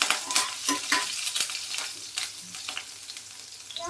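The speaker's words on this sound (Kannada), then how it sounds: "ಇದಕ್ಕೆ ಹಸಿಮೆಣಸಿನಕಾಯಿ ಹಾಕೋಣ. ಇದಕ್ಕೆ ಸ್ವಲ್ಪ ಫ್ರೈ ಆಗಬೇಕು ಎಣ್ಣೆಯಲ್ಲಿ" Green chillies frying in hot oil for peanut chutney, a bright crackling sizzle with rapid spatula stirring strokes, close and busy, easing slightly toward the end.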